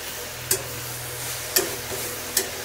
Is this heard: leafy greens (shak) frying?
yes